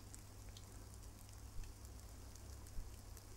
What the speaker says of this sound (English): it's localized rain. It just happened to be raining directly on my head.